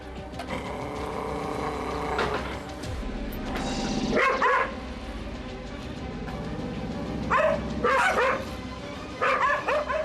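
A Jindo and a Pungsan dog face off, barking in short, fierce bursts over a rumbling background, with clusters of sharp barks around the middle and again near the end.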